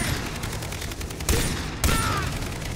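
Gunfire in the Far Cry 3 video game: dense, rapid volleys of shots crack continuously, with two heavier blasts standing out midway, loud and close throughout.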